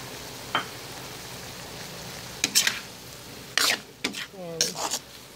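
A spoon stirs a buko (young coconut) and clam dish in a pan over a faint background sizzle, with several sharp utensil scrapes and clinks against the pan and a brief voice near the end.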